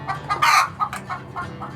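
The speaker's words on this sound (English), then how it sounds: "we raise laying hens and a variety of chickens here, but mostly layers" Laying hens and other chickens on a small farm acreage in South Dakota cluck and squawk close by, with several loud, sharp calls in quick, uneven bursts and no talk over them.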